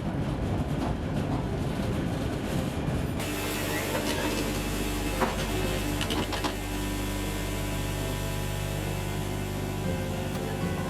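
A city tram in Mykolaiv rumbles along the street, its motor whining and wheels grinding on the rails in a loud, continuous roll that swells after a quieter start.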